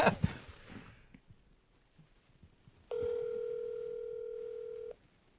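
Telephone dialing for a speakerphone call at a fundraiser event, with faint room noise and a few clicks, then a steady two-second dial tone ringing out clearly before cutting off.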